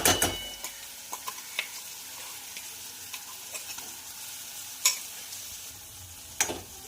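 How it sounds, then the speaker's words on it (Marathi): Drumstick masala being sautéed in a pan, a steady close sizzle with repeated scraping stirs and a few sharper utensil knocks against the metal, no voices. "आपण छानपैकी असं परतून घेऊया"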